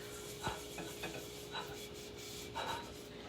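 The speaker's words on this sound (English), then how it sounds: "Watch how easily it scrubs everything off." A Norwex Spirisponge scrubs baked-on, cooked-on meat residue from a pan, giving a close, soft rasping rub in several short strokes with a low steady background hum.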